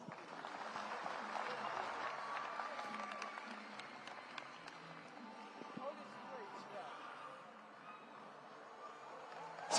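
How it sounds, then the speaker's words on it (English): Sustained crowd applause at a Kenyan political party manifesto launch rally, a steady wash of clapping and cheering through the whole stretch with a sharp burst at the very end, no speech over it. "A round of applause."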